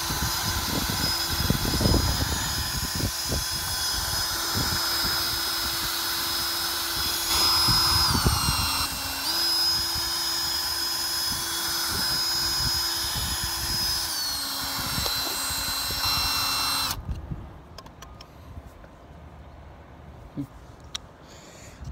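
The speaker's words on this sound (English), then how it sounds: "And continue to grind." Rotary tool grinding plastic on a NASCAR diecast model car, a steady high whine with a tonal hum that runs for about seventeen seconds, then stops, leaving quiet room noise with a few small clicks.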